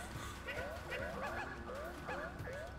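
Small cartoon dog in Yoshi's Woolly World yipping and whimpering in a quick repeated series of short high barks, close and steady, under game music and someone talking.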